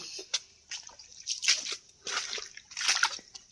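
Water poured out by hand during a freshwater crab and prawn catch, heard as several close splashing, sloshing pours in bursts, with drips and trickles between them.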